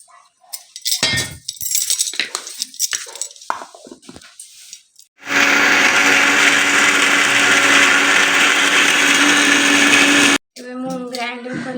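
An electric mixer grinder whirs loudly and steadily for about five seconds as it grinds raw mango, ginger and cumin with water. Clinks and knocks come before it, and a brief rattle follows.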